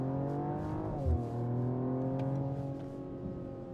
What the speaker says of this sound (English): let me accelerate